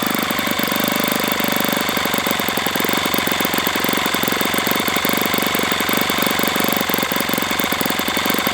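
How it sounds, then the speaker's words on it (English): A small RCV 91 CD model aircraft engine idles steadily, a loud, dense buzzing drone with a rapid pulsing rhythm that holds throughout with no talking. "I don't think it likes to idle quite so low, so I'm going to keep it a little higher."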